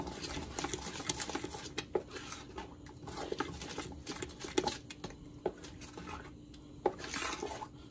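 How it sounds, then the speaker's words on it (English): A spoon or whisk stirs Jamaican potato pudding batter in a bowl, giving soft irregular scraping and tapping against the bowl, faint and close, with no voices. "you're gonna mix everything out"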